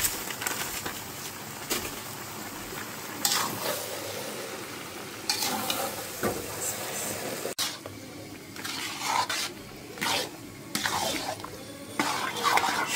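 Panch phoron and dried chillies fry in a pan for an olive pickle, a continuous close sizzle with intermittent stirring scrapes and bursts, no speech.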